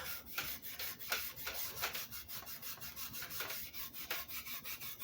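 Steel wool rubs a Les Paul guitar's wood finish in steady back-and-forth strokes, a close, rhythmic scratchy hiss repeating about twice a second with no voices.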